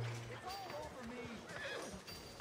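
A horse in Red Dead Redemption 2 gives a neigh amid game sounds and hoof clip-clop, with someone talking over it throughout.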